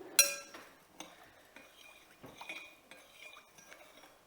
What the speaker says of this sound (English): I will dissolve the sugar. Give it a quick stir.